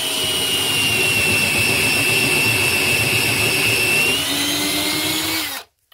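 A drill on low speed spinning a copper tube expander whines continuously at a steady high pitch, loud and close, its tone dropping slightly near the end before cutting off abruptly.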